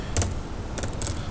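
Typing on a computer keyboard: three short bursts of clicks, one near the start and two more about half a second apart, light and close, with no voices.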